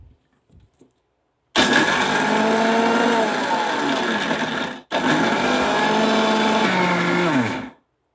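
A mixer grinder whirs loudly in a steady blending roar while grinding biscuits to powder, pausing briefly midway before starting again, then cutting off.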